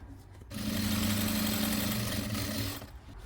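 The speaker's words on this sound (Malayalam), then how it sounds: "ഈ ഒരു ഭാഗം ആദ്യം സ്റ്റിച്ച് ചെയ്തെടുക്കുക" A sewing machine stitching pieces of bag fabric, its motor starting up into a steady, loud mechanical hum with a fast regular needle rhythm for about two seconds before stopping.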